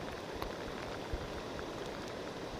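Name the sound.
rain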